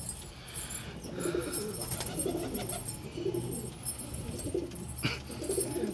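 Pigeons coo softly on a rooftop in Nazimabad, low murmuring calls repeating steadily over a busy outdoor background with faint chirps and occasional wing flutters.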